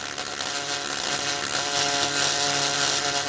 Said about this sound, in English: You get your Dremel and just